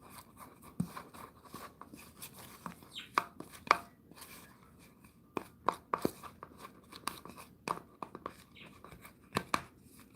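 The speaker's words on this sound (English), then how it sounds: "So still mixing the neem, still pretty dry." Dry neem powder is worked and mixed with water by hand, giving scattered soft crunches, scrapes and sharp little taps at irregular intervals, close and fairly quiet against a near-silent background.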